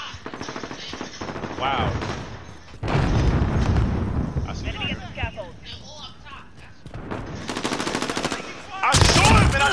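P90 gunfire in Modern Warfare gameplay, loud rapid automatic bursts in several separate strings with short gaps, heavy booming impacts between them and a player's voice exclaiming over the action.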